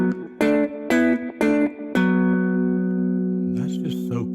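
Electric guitar playing a minor pentatonic lick: four quick repeated plucked notes, then a long sustained ringing chord that slowly fades, with a voice talking briefly near the end.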